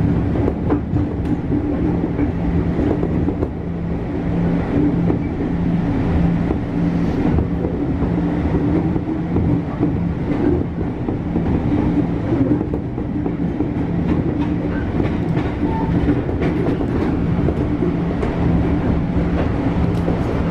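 A KRL commuter train on the Jogja–Solo line rolls steadily along the rails with a continuous low rumble and rhythmic wheel clatter, heard from inside, loud and constant throughout.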